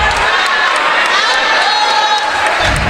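A crowd cheering and roaring throughout a high school basketball game in a gym, a loud, continuous wash of voices with a commentator talking over it.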